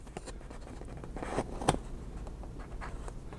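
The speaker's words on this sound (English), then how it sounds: "Let's see if I can get in there and cut that a little better." Fancy craft scissors cutting paper while altering a composition notebook into a coffin journal, a few faint snips and scrapes against quiet room noise.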